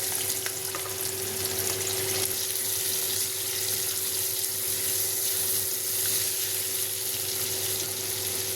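Potatoes fry in oil in a pan with a steady, even sizzle that hisses continuously at moderate level, with a faint constant hum underneath and no talking.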